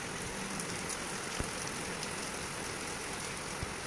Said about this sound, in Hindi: आज हमारे यहाँ बारिश हो रही है